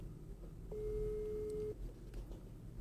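A single faint ringing tone of an outgoing phone call sounds for about a second, then stops, set against low room noise.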